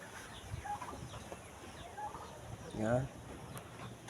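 Chickens clucking outdoors, with several short soft clucks scattered throughout and a louder, longer cluck near the end, moderately distant over faint background noise.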